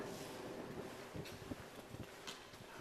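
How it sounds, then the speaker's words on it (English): Wind rushes through an abandoned turnpike tunnel, a faint, steady broadband roar funneled along the passage, with soft gusty buffeting against the microphone. "The wind starts to really pick up in here."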